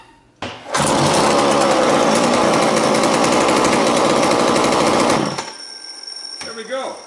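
A McCulloch Pro Mac 60 chainsaw engine, freshly primed at the carburetor, fires up and runs at a loud, buzzing, high-revving whine for about five seconds before shutting off, followed by a short stretch of talk.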